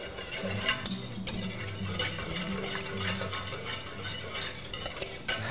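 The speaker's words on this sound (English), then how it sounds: "I'm going to add 3 tablespoons, roughly, of my olive oil. And continue to whisk the dressing together." A whisk stirs olive oil into a vinaigrette dressing in a bowl, giving steady close scraping and swishing strokes with light clinks throughout, with no voices.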